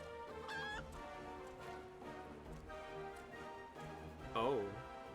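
A chicken in the video game Final Fantasy XIV clucks during the Hatching-tide event, with quick pitched clucks and squawks heard over a continuous game music background, the loudest squawk coming near the end.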